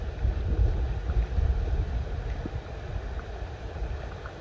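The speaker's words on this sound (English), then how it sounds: "We seem to have woken up in a bit of a storm. Rather windy here on the chase." Stormy wind roars steadily across open heathland on the chase in early morning, a dense low buffeting rumble that stays loud and unbroken, with gusts swelling and easing.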